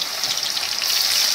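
Soybean chunks are dropped into hot oil while making chili soyabean, giving a loud, close, steady sizzle of bubbling frying with no talk.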